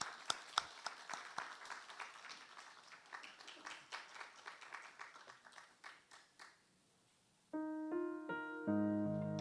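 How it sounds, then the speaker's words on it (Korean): A church congregation at a Friday evening worship service gives a blessing round of applause, brisk clapping that thins and fades out, followed by soft keyboard chords starting up alone. "나올 때 축복 박수 보내드리겠습니다."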